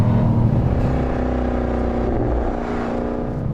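A 2024 Jaguar F-TYPE R with a supercharged V8 accelerating hard toward almost 7,000 RPM, heard as a loud, continuous engine roar with strong layered tones and no voices.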